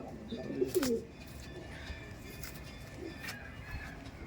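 Kalanka Madras pigeons coo in a short, low burst early on, then fall quiet against a steady background hiss.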